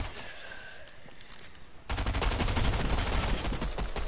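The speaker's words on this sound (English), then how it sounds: "Look how OP sidearm pistols are though." Rapid sidearm pistol shots in Fortnite, a dense run of loud cracks that begins partway through after a quieter stretch of game ambience.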